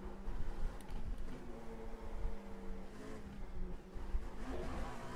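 A Dallara LMP2 prototype race car in the iRacing sim finishes a lap of Le Mans, its engine a steady, fairly quiet drone throughout with no talking.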